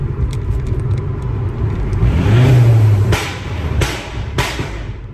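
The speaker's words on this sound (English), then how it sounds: "I'm gonna rev it under this tunnel so you guys can hear the pops." A Volkswagen GTI with a new muffler revs up in a tunnel with a deep echoing roar, then three sharp exhaust pops crack out one after another as it drops off.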